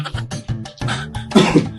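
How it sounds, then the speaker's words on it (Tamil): A persistent cough that has lasted about a month, heard as a series of close, harsh coughs and throat-clearing bursts, growing louder toward the end. "இந்த இருமல் இருக்குல்ல ஒரு மாசமா என்னை போட்டு பாடா படுத்துதுமா"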